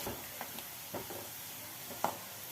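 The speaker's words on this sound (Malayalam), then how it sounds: "എണ്ണ ചൂടായപ്പം 5 വലിയ ഉള്ളി നൈസായി അരിഞ്ഞതിട്ടൊന്ന് വറുത്തെടുക്കണം" Five large onions, finely chopped, fry in hot oil in a pan, giving a faint, steady sizzle with a few soft stirring clicks scattered through it and no talking.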